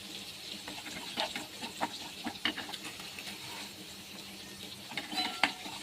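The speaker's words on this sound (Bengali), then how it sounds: "কালো জিরেটা আমার ভাজা ভাজা হয়ে গেছে।" Black cumin seeds sizzle in hot oil in a pan, a faint, steady hiss broken by scattered small pops and crackles, close by with no voices.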